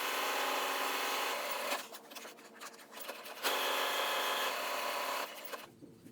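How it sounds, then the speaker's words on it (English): A sewing machine runs steadily while stitching the top and bottom edges of a fabric 3D face mask, its whirring motor loud and continuous with a short slowdown in the middle and a stop near the end. "Next, I'll be sewing the top and bottom edges of the mask."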